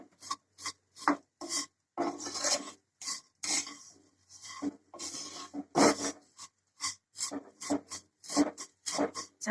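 Sewai vermicelli is stirred as it roasts dry in a pan, giving rhythmic, close scraping and rasping strokes with short pauses between them.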